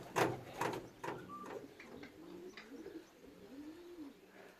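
Racing pigeons at the loft cooing softly with low throaty calls and a few sharp flutter-like bursts near the start, fairly faint in a quiet outdoor setting.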